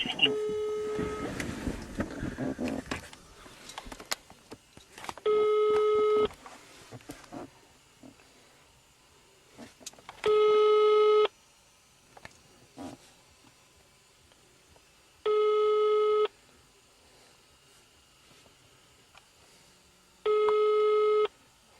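A telephone busy signal sounds during a call made at a traffic police stop: four evenly spaced, steady electronic tones about five seconds apart, each lasting around a second. People talk at the start, with faint background murmur between the tones.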